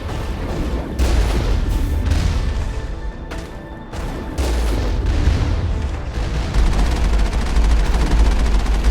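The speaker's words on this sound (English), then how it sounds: "Being barraged by rockets here." Rocket barrage in the video game Mass Effect pounds with repeated loud, close booming explosions and rumbling blasts, nearly continuous with brief lulls between volleys, heard without talk.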